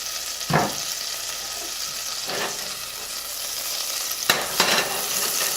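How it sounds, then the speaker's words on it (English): Butter and extra virgin olive oil sizzle steadily in a heating pot, a constant close frying hiss punctuated by a few clinks and scrapes of a utensil. "I'm going to throw our 1 tablespoon of butter in there, and you can see the pot is heating up pretty quickly"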